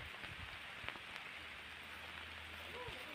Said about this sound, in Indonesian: Soalnya ini hari hujan teman-teman.